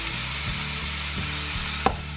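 Ham and bacon fry in a pan with a loud, close, continuous sizzle and crackle, broken by a few soft utensil taps and one brief sharp click near the end, no voices.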